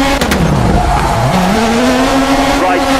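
A rally car in the WRC 4 racing video game yanks the handbrake into a hairpin, its engine droning loud and steady with a rising pitch under a tire-skid hiss, while a co-driver calls notes.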